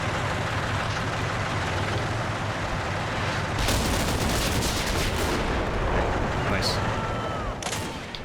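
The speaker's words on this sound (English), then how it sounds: "Good enfilading fire there to try and cross the field" Rifle and machine-gun fire crackles in Combat Mission: Battle for Normandy, a World War II battle in open fields with Panzer IV tanks, as sustained loud bursts of rapid gunshots and booming reports overlap into a dense, continuous barrage.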